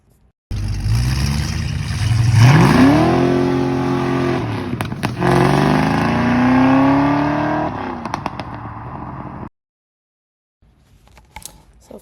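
A Foxbody project car's engine runs loud and close during a test drive, revving up through rising pitch, easing off, then climbing again before cutting to near silence.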